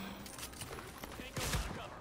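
A shotgun blast in The Division video game, one heavy boom near the end of a brief stretch of muffled gunfire, with voices present in the background.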